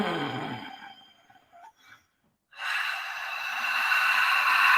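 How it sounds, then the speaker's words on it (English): A person breathes in, then lets out a long, steady breathy exhale after a brief pause, close to the microphone and heard alone. "with a really long exhale"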